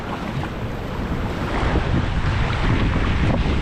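A jet ski runs on the sea off a beach on Koh Larn island, a steady broad roar mixed with gusting wind noise and water, growing louder partway through, with no talking.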